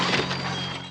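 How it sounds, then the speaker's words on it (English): Jason crashes through a wooden door in a Friday the 13th Part 6 film scene, giving one short loud splintering crack of breaking wood with no voices. "That's how you crash through a door."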